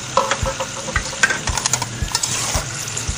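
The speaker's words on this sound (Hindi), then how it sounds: "इसको इतना फ्राई करेंगे कि इसका रंग बदल जाए" Chicken pieces frying in ghee in a kadai pan, a steady sizzle broken by repeated scrapes and clinks as a spoon stirs the meat, close and moderately loud, no voices.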